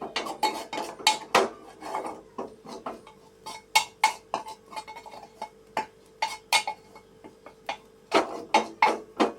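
Gram flour being roasted for a bitter gourd and potato curry, a spoon scraping and clinking steadily against a metal pan in quick repeated strokes, close and fairly loud, with no talking.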